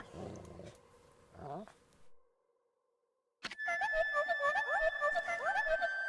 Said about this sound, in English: Is that doggy crying somewhere, sis?